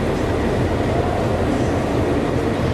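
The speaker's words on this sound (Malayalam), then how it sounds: "long distance trains" Long-distance trains at Mumbai Central station, a steady loud rumble of rolling rail cars and station noise with no clear speech.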